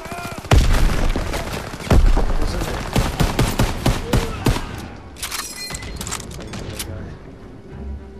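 Loud close blast from a grenade in a Call of Duty WWII battle at Hill 493, followed by rapid bursts of rifle and machine gun fire that thin out into scattered shots and clatter.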